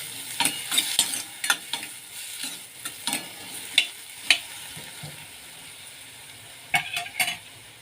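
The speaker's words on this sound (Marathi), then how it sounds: "टोमॅटो आणि हिरवी मिरची घालत आहे मी" Tomato and green chilli hitting hot oil in a pan for garlic spinach curry, a loud sizzle with repeated spatula scrapes and clatters at irregular intervals, heard up close with no voices.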